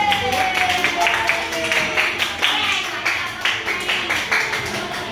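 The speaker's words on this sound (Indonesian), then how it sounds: "Tepuk tangan dulu kita semua sudah melakukan" Children in a primary science class clap together in a steady, rhythmic run of claps that keeps an even pace and loudness for several seconds. A voice is briefly heard at the start.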